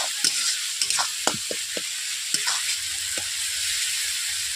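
Spices frying in a pan after a splash of water for a Bengali katla fish kalia with black cumin, a soft steady sizzle under repeated close scraping strokes of a spatula, no voices.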